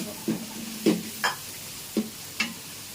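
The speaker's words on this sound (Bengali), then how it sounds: "প্রথমে তেল গরম করে চিংড়ি মাছটা ছেড়ে দিলাম" Shrimp frying in hot oil, with a soft sizzle under a series of sharp spatula scrapes and stirs against the pan, about five distinct strokes spaced irregularly and heard close up.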